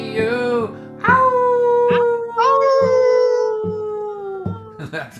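A dog lets out a series of long, wavering howls up close and loud, each rising and sliding downward. Short breaks separate them, and yips come at the end.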